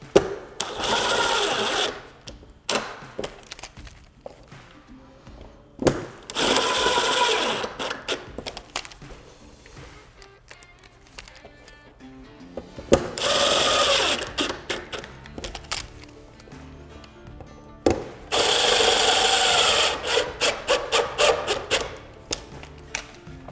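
Screws driven in with a power drill to fasten a TRI-STEP gutter cover, several bursts of whirring drilling separated by pauses, fairly close and alone.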